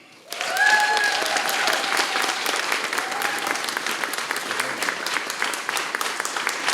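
Audience applause for a male choir at a jubilee concert starts sharply and continues as sustained, dense clapping from a large crowd indoors, with a brief tonal sound early on.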